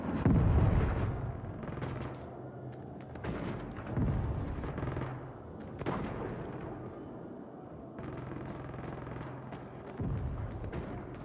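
Several deep, booming cannon shots in Saints Row ring out at intervals, each with a heavy low thump and a decaying rumble, amid game-like background clatter.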